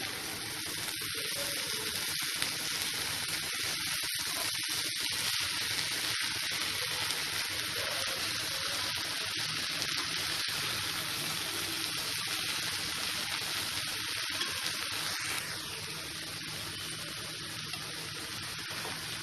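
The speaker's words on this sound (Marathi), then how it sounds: "भाजी थोडीशी आळली आहे आता आपण ती परतून घेऊ" Safed musli wild greens sautéing in a pan over medium heat, a soft, even, continuous sizzle and crackle with faint stirring, steady throughout and fairly quiet.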